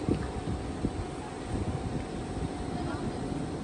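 Steady wind buffets the microphone on the seashore of Egypt's north coast, a continuous low rumbling roar with gusty swells and no pauses.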